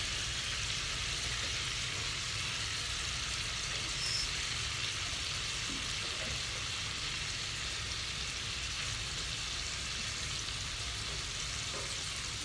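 Bison meatballs brown in a hot pan, giving off a steady, dense sizzle and crackle that runs unbroken and evenly loud from start to finish, with no voices.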